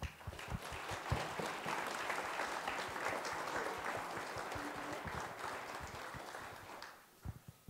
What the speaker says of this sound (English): Let us share in a round of applause.